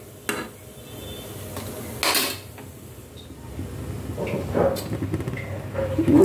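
Banana jaggery being stirred in a large cooking pot while the foam is skimmed off, with scraping and clanking of metal utensils against the pot and occasional creaks, moderately loud and close.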